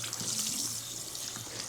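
Running water from a salon basin tap rinses shampoo suds out of hair in a steady, splashing hiss, close by, with no talking.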